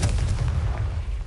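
A Confringo fire spell detonates in the video game Hogwarts Legacy, a loud, heavy blast with a deep rumbling body that fills the whole brief moment.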